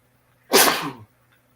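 A single sharp, breathy sneeze up close, preceded by near silence and ending abruptly.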